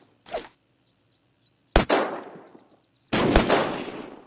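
Gunfire in the video game Unturned: three loud bursts spaced apart, a short shot followed by two sharper blasts with ringing decay, near and alone with no talk.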